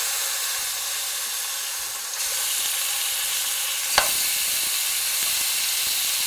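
Oxtail pieces sizzle and fry in canola oil in a pot, a steady bright hiss with a sharp crackling pop near the middle, close and loud with no talking.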